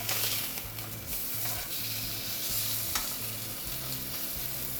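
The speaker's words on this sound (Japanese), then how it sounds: "断面にですね焼き色をしっかりつける作業です。" Pork slices about one centimetre thick seared over medium-high heat in a frying pan, producing a loud, dense, continuous sizzle with a low steady hum beneath and no speech.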